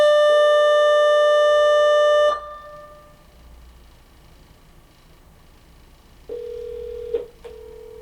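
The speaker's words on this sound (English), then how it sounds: "Answer the phone." A telephone ring tone sounds steadily for about two seconds, then after a quiet gap a lower electronic tone returns in short bursts, clear and close.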